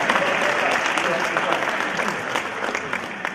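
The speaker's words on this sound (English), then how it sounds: "Y'all can clap" A university convocation crowd claps and cheers loudly, steady applause filling the room and slowly tapering off toward the end.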